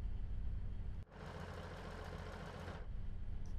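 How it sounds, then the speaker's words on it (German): A diesel train engine in the Train Sim World 3 game on the Midland Main Line cranks into life with a sudden burst, then settles into a steady low rumbling run before dropping back to a quieter idle hum. "Was war denn das jetzt für ein Motorstart?"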